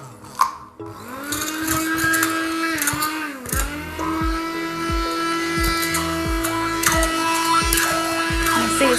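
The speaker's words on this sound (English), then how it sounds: "just use a blender or a masher and combine the ingredients." A blender whirs as it mixes pomegranate face mask ingredients in a bowl, a steady high-pitched motor whine with a rhythmic chopping pulse that briefly dips in pitch, close and loud.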